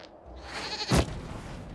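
A goat bleats in the fantasy role-playing game Dragon Age Inquisition, one loud, brief cry near the middle of a short stretch of game ambience.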